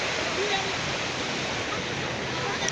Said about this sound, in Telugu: సో మంగమార్పేట బీచ్ ఇది దృశ్యాలు ఈరోజు